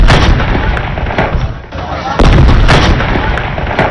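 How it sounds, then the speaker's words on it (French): Heavy cannon rounds of a 21-gun salute boom at the national state funeral of Chad's marshal, loud, close blasts with a rumbling tail and a brief lull between them. "21 tirs de canon sont tirés pour saluer la mémoire de ce soldat loyal."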